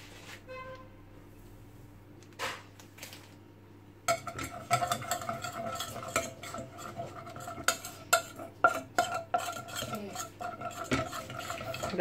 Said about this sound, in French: Et là je continue à remuer mon mélange jusqu'à épaississement.